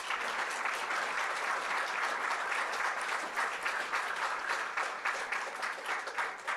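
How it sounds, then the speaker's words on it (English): An audience claps steadily for two debaters at the close of a live debate event, a dense, even roar of many hands that holds for the whole stretch with a slight dip near the end. "Let's give everybody, both of them, a round of applause, please"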